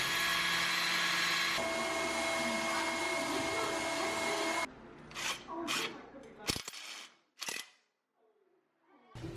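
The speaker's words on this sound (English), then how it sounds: "I have to drill into the concrete here to put these shelves on this wall" A power drill bores into a concrete wall to mount shelves, a loud, steady grinding whine that cuts off abruptly partway through, followed by scattered knocks and handling sounds.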